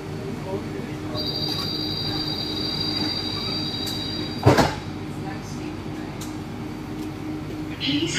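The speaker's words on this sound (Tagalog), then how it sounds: "The sky train going to terminal" Singapore Changi Airport Skytrain carrying passengers between terminals, a steady rumble of rail car and wheels throughout with a high squealing tone, a sharp clunk midway, and faint talk in the background.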